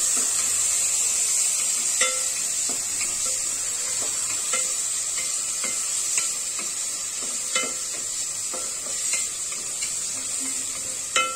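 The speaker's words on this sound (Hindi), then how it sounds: "उसके बाद इसमें आनियन डाल दिए, प्याज, और थोड़ा इसको" Onions sizzle in a pan for tomato chutney while a utensil stirs them, giving a steady soft hiss broken by irregular scraping clicks throughout, with no talking.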